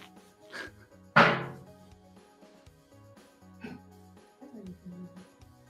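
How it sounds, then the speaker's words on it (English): A metal gas can in the corner of a garage lets out one sharp, fairly loud bang from an abrupt temperature change, followed by quieter thumps and low background sounds. "when there's a large abrupt temperature change, the metal gas can in the corner of my garage will make a"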